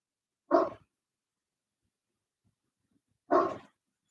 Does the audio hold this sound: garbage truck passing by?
no